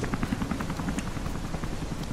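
A low-flying aircraft passes overhead in the video game Rise of the Tomb Raider, giving a steady loud rotor-like droning roar with a rhythmic chop that fills the whole clip without talk.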